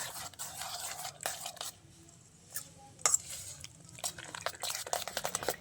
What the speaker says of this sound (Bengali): ভালো করে সব একসাথে মিশিয়ে নেবো আবারও